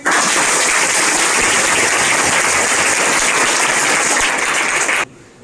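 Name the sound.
audience applause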